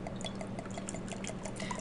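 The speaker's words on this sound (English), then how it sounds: "in this beaker I'm going to pour some water." Water poured into a laboratory beaker, a continuous soft splashing and trickling with faint bright drips, steady and fairly quiet throughout with no talking.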